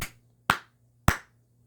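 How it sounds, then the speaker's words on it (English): Three sharp hand claps ring out about half a second apart, close and clear in a quiet room, each with a short decay and no voices. "I kind of need to clap to clear out the energy from the last reading"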